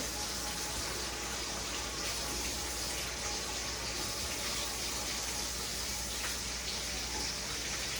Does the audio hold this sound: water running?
yes